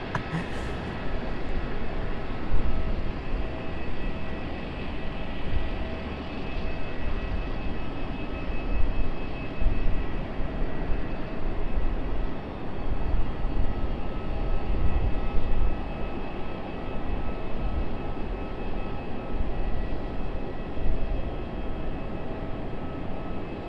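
MD-11 aircraft moving on the airfield at Raleigh-Durham International Airport, a steady broad jet engine rumble with faint tonal whine, constant and moderately loud throughout.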